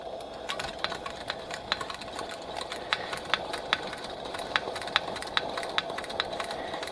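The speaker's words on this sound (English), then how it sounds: "And then we can give it maybe a few more pumps" A Canadian Coleman 321C gas lantern from February 1984 being pumped, a regular series of mechanical clicks and strokes over a constant hiss, close and fairly loud, with no voices.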